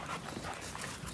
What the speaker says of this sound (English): In the inside, they are my American Bullies.